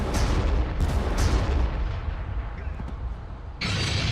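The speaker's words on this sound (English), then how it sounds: "they have some artillery back there we'll have to deal with" Artillery rumbles through a tabletop-style war video game battle as a continuous heavy, low boom, with brief higher bursts layered over it.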